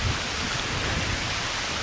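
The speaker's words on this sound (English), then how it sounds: "the thunder's just let rip too." Steady heavy Amazon rainforest rain roaring in a dense wash at night, with a low rumble of thunder underneath.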